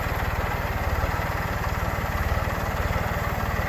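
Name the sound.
engine running on a demo machine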